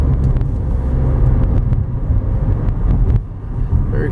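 A 2015 Nissan Rogue AWD SUV driving on hilly side roads with speed bumps, giving a steady low engine and road rumble with some wind noise throughout, close and fairly loud, with a brief dip near the end.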